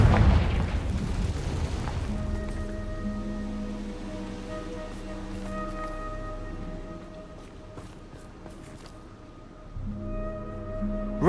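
A fire spell explosion in a Harry Potter video game bursts with a deep, loud boom that rolls off into a fading rumble. Low ambient game tones hum through the rest, and a softer thump comes near the end.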